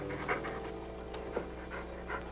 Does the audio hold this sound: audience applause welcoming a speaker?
no